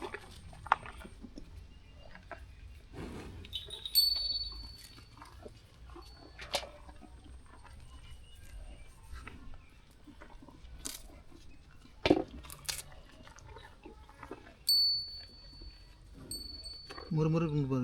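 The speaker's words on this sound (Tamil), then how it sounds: "பாருங்க எவ்வளோ அழகாக சாப்பிடுது பாருங்க மாடு" A cow chews and eats a banana, giving soft, wet, intermittent munching and squishing bites with occasional sharper crunches, close up and fairly quiet, with people talking in the background.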